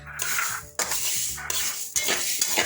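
Whole dried chillies and spices for sambar powder are stirred and tossed in a dry pan, with repeated scraping and rattling sweeps and a faint sizzle between strokes, no voices.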